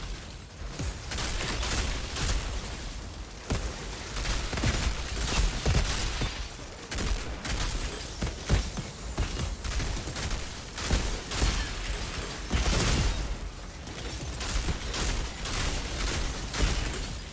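Rapid gunfire from the Outriders video game rattles in dense, overlapping bursts with shattering impacts and small explosions, loud and nearly continuous throughout with no talking.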